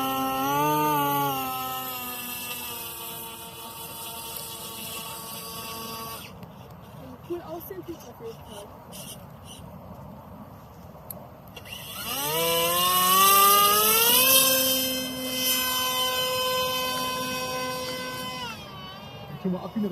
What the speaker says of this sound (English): The two-blade airplane propeller, finally, draws less current than it should, but still delivers high thrust